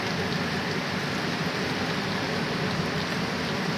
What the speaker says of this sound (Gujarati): ચાલુ વરસાદ